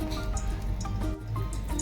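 Oil is poured from a spoon into a hot kadai while an egg curry is being prepared, making close, steady liquid drips and small splashes across a short stretch with no talking.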